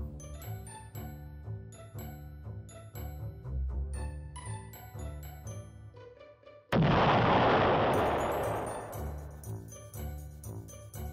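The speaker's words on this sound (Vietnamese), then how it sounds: "Khi vừa đi qua thì tất cả các hố ga đồng loạt nổ tung." Several manholes blowing up at once along a street, a sudden loud burst of noise that hits mid-clip and rings on for seconds over a steady musical backing.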